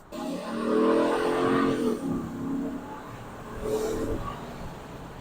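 An American pickup truck accelerates hard through a built-up area, its engine rising to a loud roaring rev, easing off, then surging again in a shorter second burst.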